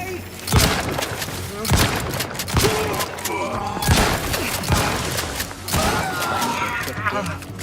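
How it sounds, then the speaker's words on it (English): Several heavy booming blasts from a grenade in The Outer Worlds 2 combat, with loud thuds recurring every second or two amid gunfire and a voice talking over the fight. "Grenade away!"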